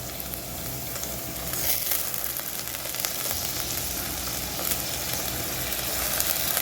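Curry leaves and cumin sizzle and crackle steadily in hot oil for a cabbage and mixed-vegetable poriyal, a dense, continuous frying hiss with small pops close by.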